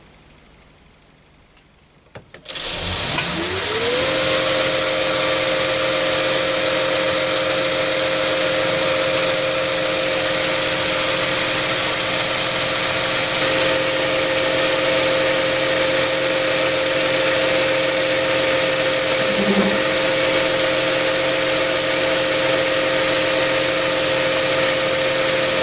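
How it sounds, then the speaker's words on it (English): A metal lathe runs steadily after starting up, with a high-speed steel turning tool chamfering a drilled hole and cutting decorative face grooves; a loud, continuous motor hum and high whine carry throughout with no talking. "I'm going to use the same tool again to put a chamfer on that drilled hole and a couple of decorative face grooves."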